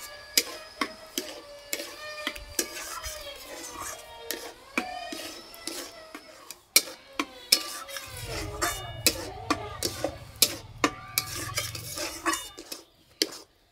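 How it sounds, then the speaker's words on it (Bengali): Chire kalakand mixture stirred in a pan, with sharp repeated clicks and scrapes of a spoon against metal at an uneven rhythm, close and moderately loud, and a soft low hum joining midway. "এইভাবে নাড়তে নাড়তে এই যে একটা আঠা আঠা ভাব হয়ে যাচ্ছে"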